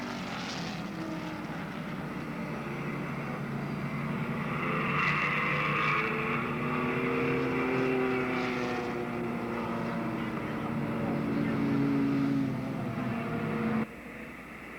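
Race cars at Monadnock Speedway during a 1992 race, engine drone rising and falling as cars sweep past, fairly distant and steady, ending with an abrupt drop in level.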